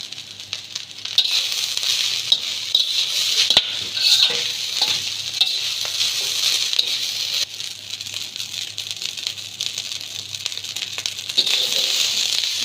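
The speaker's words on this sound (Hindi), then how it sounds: "अच्छे तरीके से इनको आपने फ्राई करना है और मिक्स करना है" Chinese egg fried rice sizzles in a pan while a spatula stirs and scrapes it repeatedly. Metallic clinks and rustling mixing sounds sit over a steady frying hiss that runs close and loud throughout.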